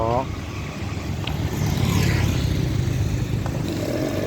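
A large three-wheeled vehicle passes along a street in Nakhon Sawan, its engine a loud steady rumble that swells through the middle and stays close, while someone talks over it.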